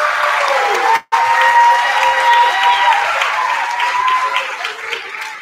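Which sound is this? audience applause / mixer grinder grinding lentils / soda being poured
audience applause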